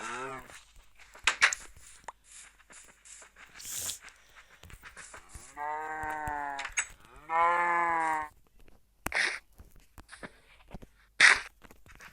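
Farm cattle moo loudly and close by in two long, drawn-out calls as the animals are brought inside, with scattered footsteps and knocks around them.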